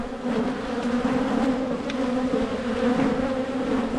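Honey bees buzz in a dense, steady drone during a hive inspection at a ranch's bee huts. Many insects are close by, and their humming is continuous, with individual bees flying past now and then.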